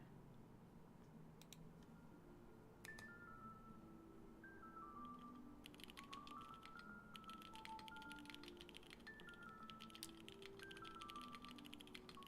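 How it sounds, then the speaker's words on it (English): Keystrokes patter on a LeleLab Maxum65 mechanical keyboard, a quiet run of clicky taps growing busier toward the end, with no talking. "Sounds like a keyboard."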